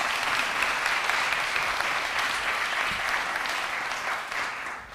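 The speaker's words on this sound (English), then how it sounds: "Please give her a round of applause" A church congregation bursts into a dense round of clapping that holds steady and then gradually tapers off toward the end.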